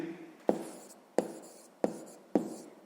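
A pen taps and scratches on paper while a math exercise is written out, four sharp strokes spaced about half a second apart, close and clear with no talk.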